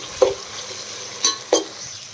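Green chillies, potatoes and meal maker sizzle in hot oil in a pan, a steady frying hiss broken by three sharp spatula scrapes and clinks, close up with no talk.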